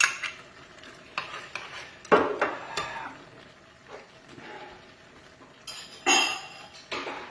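Potatoes and frozen peas are cooked in a pan, heard as scattered clinks and scrapes of a metal spoon against the cookware, with a few louder knocks between quieter stretches.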